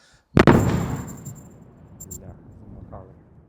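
A sudden loud explosion booms in the mountains at Bukovel, a single sharp blast followed by a rolling, fading echo.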